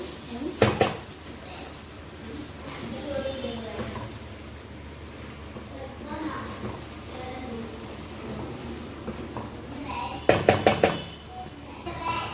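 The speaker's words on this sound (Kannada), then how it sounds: "ಈಗ ಇದನ್ನು ನಾವು ಮೆಲ್ಲ ಈ ಥರ ಮಿಕ್ಸ್ ಮಾಡ್ಕೊಳ್ಳೋಣ" A spoon stirs mixed vegetables for pulao in a metal pan, with sharp clattering scrapes at the start and a cluster of rapid clinks near the end. Quieter stirring fills the middle.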